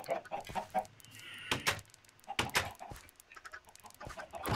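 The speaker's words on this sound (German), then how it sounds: "Kannst du doch mal weggehen, kleines Hühnchen?" A chicken in the Minecraft video game clucks in short, choppy bursts, fairly close and uneven in rhythm, with a quieter bird-like murmur in the gaps between calls.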